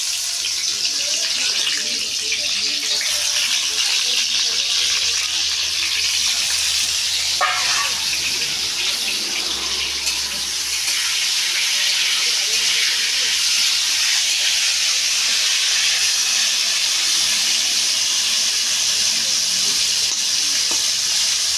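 Pieces of pointed gourd coated with salt and turmeric going into a hot wok, giving a loud, steady, close hiss of sizzling oil that holds without letup for the whole stretch.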